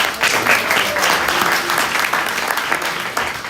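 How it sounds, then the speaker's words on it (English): Audience applause during an evening pilgrimage program at Govardhana, a full, lively burst of many hands clapping close by, loud and continuous throughout. "let's give a big round of applause"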